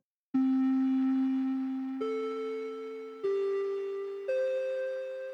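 An Ableton drift synthesizer instrument from the Tonal Drifts pack plays four sustained tones in sequence, each note stepping higher and slowly fading, bright and smooth with no one talking.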